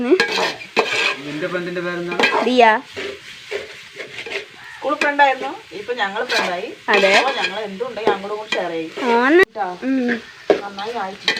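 Masala is stirred and roasted in a pan, giving scraping and sizzling sounds under almost constant close talking.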